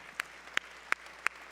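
At a charity tribute gala, four sharp, evenly spaced hand claps ring out one by one against a quiet room, sparse and isolated rather than a full round.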